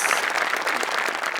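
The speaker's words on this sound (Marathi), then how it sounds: "हरीश कसपटेंसाठी पण एकदा टाळ्या." Studio audience at a Marathi comedy show applauds an assistant director, a short, lively round of many-handed clapping, close and even throughout.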